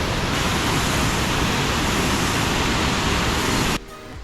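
A small waterfall tumbles below a double-decker living root bridge near Mawly, a steady broadband rush heard from nearby that drops abruptly to quieter ambience near the end, with no talking.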